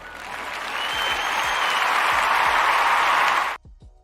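Crowd applause swelling to a full, steady roar of clapping, with a few low thumps underneath, then cutting off abruptly near the end, leaving brief quiet.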